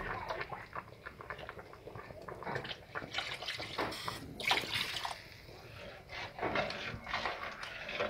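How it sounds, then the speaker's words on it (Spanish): Water is poured into a pot of mole de olla with beef and vegetables, an uneven splashing and trickling with scraping and rubbing sounds over it, fairly quiet and close with no talking. "Y le voy a agregar un poquito de agua."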